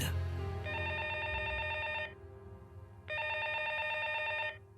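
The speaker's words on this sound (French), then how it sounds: "le téléphone sonne dans le vide" A telephone rings unanswered, two long electronic ring bursts separated by a pause, heard faintly over a low background hum with no voices.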